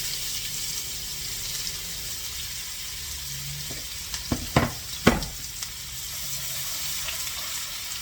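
Half a cup of shallots frying in a very hot pan, a steady close sizzle broken by a few sharp clattering knocks of utensils mid-way, no voices.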